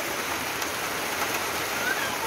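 Steady rain falls outside a small corridor beside a room, a soft continuous hiss of drops on surfaces, fairly faint, with no voices.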